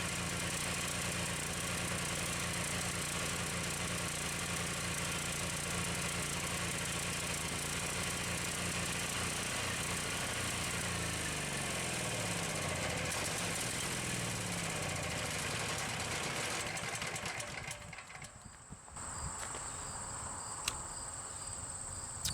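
A generator engine runs at idle for a long stretch, rough and uneven, with a steady low drone, dense insect-like chirring on top, and a brief dip near the end before it carries on.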